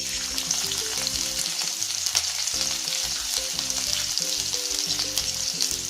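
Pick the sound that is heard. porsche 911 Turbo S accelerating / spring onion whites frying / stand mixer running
spring onion whites frying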